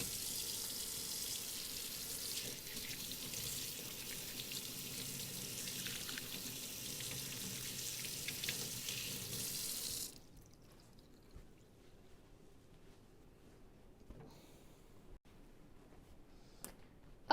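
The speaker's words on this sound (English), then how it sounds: "I'm gonna go ahead and wash my hands" Water runs steadily from a sink tap as hands are washed beneath it for about ten seconds, then the flow stops and only faint room sounds and small clicks remain.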